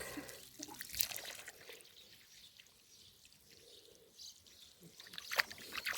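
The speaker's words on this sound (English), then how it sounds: "first you do a big hole, put some water in it" Water trickles and splashes into a dug planting hole in garden soil nearby, soft and uneven, with a few brighter splashes and drips over several seconds outdoors.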